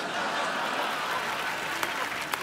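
An audience breaks into applause, a dense even patter of clapping with a couple of sharper claps near the end, at a comedy spoof show.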